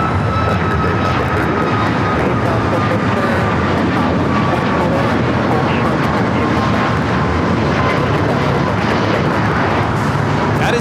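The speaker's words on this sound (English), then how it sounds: "That is Southwest Airlines 3808 taking off to Phoenix on the MAX 8." A Southwest Airlines Boeing 737 MAX 8 takes off at LAX, its loud, steady jet roar and sliding engine whine sustained throughout, with some faint talk mixed in beneath.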